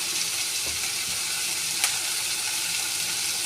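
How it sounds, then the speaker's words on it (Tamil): Curry leaves and salt sizzle steadily as they are sautéed in a pan, a close, even frying hiss with one brief clink partway through and no talking. "கருவேப்பிலை எல்லாம் போட்டு நல்லா வதக்கிட்டு அதில் சால்ட்டு போட்டுருவோம்."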